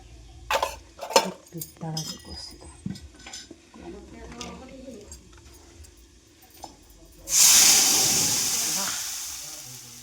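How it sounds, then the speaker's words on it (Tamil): Cauliflower frying in hot oil in a home kitchen: scattered clinks and stirring at first, then a sudden loud sizzling hiss that rises sharply and slowly fades, close by. "এটা ফুলকপি ভাজছি"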